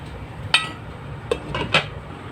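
A lid set onto a pot of macaroni pasta cooking on the stove, giving a few sharp metallic clinks and taps, close and alone.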